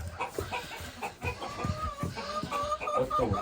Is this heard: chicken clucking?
yes